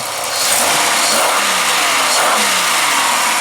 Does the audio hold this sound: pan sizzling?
no